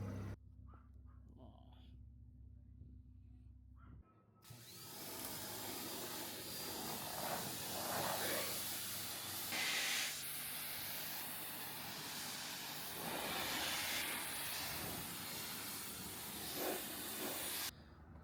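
Water spray hisses steadily against a turbo Honda Integra during a wash, starting after a quiet few seconds and continuing close and loud with slight shifts in intensity.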